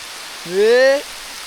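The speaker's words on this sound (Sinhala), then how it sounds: "අයියෙන් වහිනවා" Heavy rain falls on the Sri Pada pilgrimage trail along the Sadagalathanna road as a steady, loud hiss throughout, with one brief rising vocal tone heard over it.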